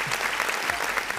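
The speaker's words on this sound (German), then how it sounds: "Vielen Dank für den Applaus hier." Steady applause fills the whole short stretch, a dense even patter of clapping from a group with no voices standing out.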